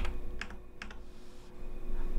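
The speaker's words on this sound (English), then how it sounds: "I type shift option F to format on my Mac keyboard." A few keys pressed on a Mac keyboard during coding, a short cluster of quiet clicks near and distinct over a steady low hum.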